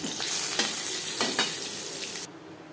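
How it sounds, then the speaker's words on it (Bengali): Whole cumin seeds sizzle and crackle steadily in hot oil left from frying fish, close and fairly loud with light stirring, before the sizzle drops off abruptly near the end. "মাছ ভেজে নেওয়ার তেলে দিয়ে দিলাম গোটা জিরে"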